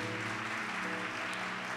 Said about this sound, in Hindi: जोर से ताली बजाए राजाओं के राजा के लिए.